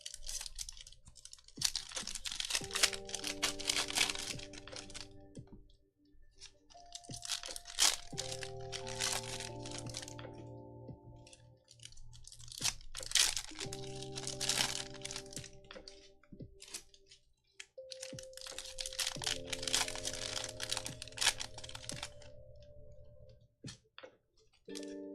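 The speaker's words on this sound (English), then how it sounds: "We're going to get all the cards out, open all the packs first, and then sort through them." Packs of 2025 Panini Donruss baseball trading cards are torn open by hand. Close, busy crinkling and crackling of foil wrappers comes in long bursts over a steady background of music, with no talking.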